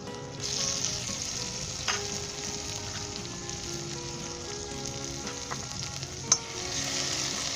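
Tomatoes fry in a pan for a pasta noodle dish, a steady close sizzle with occasional spattering pops and light stirring, no voices over it.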